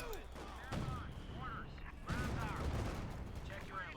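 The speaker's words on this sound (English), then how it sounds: "Fifth coming up the center, machine gun firing away." Gunfire rattles steadily through a Company of Heroes 2 battle between Wehrmacht and US forces, a machine gun firing amid mixed combat noise, with a commentator talking over it the whole time.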